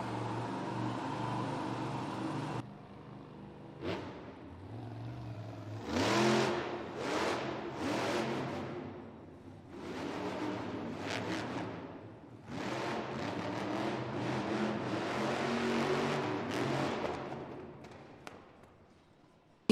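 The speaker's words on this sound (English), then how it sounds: "That's exactly that gremlin Montana Robbins has been chasing on his Monster Jam truck." Monster Jam truck with an electrical fault revving in an indoor arena: loud repeated engine bursts that surge and fall away, alternating with quieter idle gaps.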